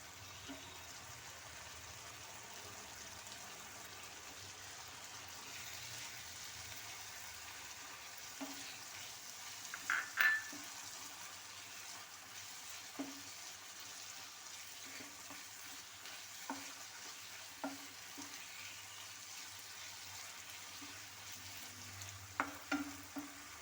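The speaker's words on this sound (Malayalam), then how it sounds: "വഴുതനങ്ങ കത്തിരിക്കാൻ നല്ലതുപോലെ വെന്ത് വെന്ത് വെന്ത് വരുമ്പോൾ നമ്മൾ വേവിച്ച് വെച്ചിരിക്കും നമ്മൾ ആദ്യമേ വേവിച്ച് വെച്ച് വെക്കണം കിഴങ്ങ് രണ്ടെണ്ണം ആ കിഴങ്ങും ചേർത്ത് വഴറ്റാം" Brinjal and boiled potatoes sautéing in a pan, a low steady sizzle under sparse soft stirring scrapes and taps, faint and fairly distant.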